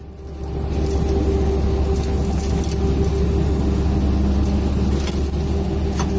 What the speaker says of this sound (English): See the conveyor spinning